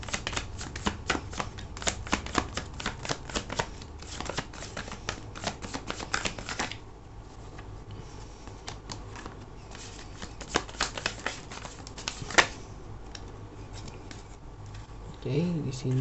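Tarot cards are shuffled and drawn during a reading, with a dense run of rapid crisp card clicks and flicks for several seconds, then quieter handling and sliding, while a voice speaks intermittently nearby.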